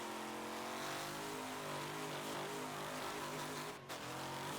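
A car engine revs hard and steadily in fifth gear during a Wreckfest race, a loud continuous mid-pitched roar with layered harmonics that holds for several seconds and dips only briefly near the end.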